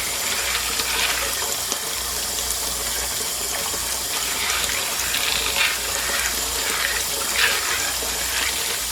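Water runs steadily from a tap while tumbled rocks such as hawk's eye and blue tiger eye are rinsed after step 3 of tumbling, a continuous close rushing flow with occasional louder gushes and splashes.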